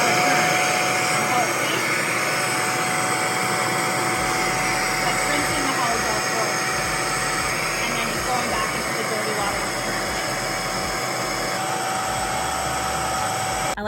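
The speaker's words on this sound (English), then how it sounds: "This is the Hoover, this is the hose rinse tool. So it's just kind of like a little tiny plug. And then what I'm going to do here is run it" A Hoover portable carpet spot cleaner runs with its hose rinse tool attached, giving a loud, steady motor whine and airflow roar that holds throughout with a constant tone, while a person talks over it.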